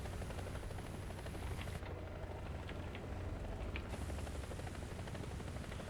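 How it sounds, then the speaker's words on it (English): Enemy helicopter in the War Thunder tank game, a steady rotor and engine drone that holds at an even, fairly distant level throughout, with no speech. "There's an enemy helicopter up here."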